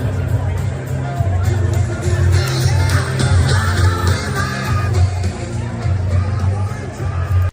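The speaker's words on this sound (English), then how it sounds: "Winnipeg showed up, and there's video of the crowd." A large, dense crowd at a Poilievre campaign rally in Winnipeg fills the air with loud babble, yells and cheering that swell and hold steadily throughout.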